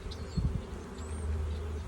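Bees buzzing around an opened beehive as frames are inspected in spring, a faint insect drone with a brief louder burst near the start and a steady hum after.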